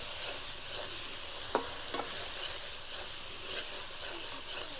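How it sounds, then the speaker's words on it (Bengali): A cashew and poppy seed paste fries with spices in a pan, a soft steady sizzle with light stirring scrapes and a couple of sharp clicks from the spatula against the pan near the middle. "এই কাজু পোস্ত কিন্তু ভালোভাবে কষিয়ে নিতে হবে মশলার সাথে"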